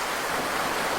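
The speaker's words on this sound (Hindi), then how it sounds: "बहता हुआ पानी" Flowing water, likely an outdoor stream, gives a steady dense hiss and rush, loud and unbroken, with no talk.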